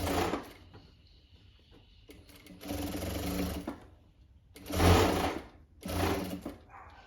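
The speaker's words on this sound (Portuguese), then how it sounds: "Rebater é você costurar bem na beiradinha, pra ele fazer como se fosse uma barrinha." A sewing machine topstitches along the edge of a winter pajama collar, running in several steady whirring bursts that stop and start again between brief pauses, close and clear.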